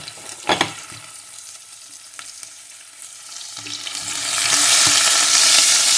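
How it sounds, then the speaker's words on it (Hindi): Curry leaves, garlic and green chilli are dropped into hot oil, giving a sharp crackle at first, then a hiss that builds into a loud, steady sizzle with occasional stirring clicks. "इसे कुछ सेकंड्स के लिए फ्राई करेंगे। तकरीबन 1 मिनट के लिए इसको फ्राई कर लें।"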